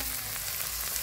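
Onions fry in hot oil with bay leaf, dried and green chillies and cumin, giving a steady close sizzle that holds throughout this short stretch, with no talking.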